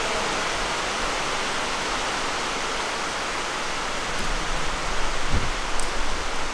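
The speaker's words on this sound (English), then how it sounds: "It's already raining, y'all." Rain falling outdoors, a steady broadband hiss of drops pattering on surfaces that swells a little louder near the end, with a brief low thump partway through and no voices.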